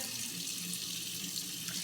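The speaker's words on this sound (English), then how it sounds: "And then I just wash it out, wash out the inside." Tap water runs steadily into a kitchen sink while a raw Thanksgiving turkey is rinsed out inside, a continuous close hiss and splash with no talking.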